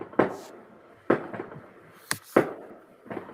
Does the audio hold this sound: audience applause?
no